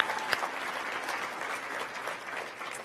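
A large audience at the Profile in Courage Award ceremony breaking into steady, dense applause and cheering, a continuous roar of clapping that fills the room without a break.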